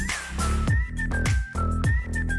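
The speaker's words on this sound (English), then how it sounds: "That whistle." In the pop song, a bright melodic whistle runs in repeated short phrases over punchy beats and bass, with the music driving steadily underneath.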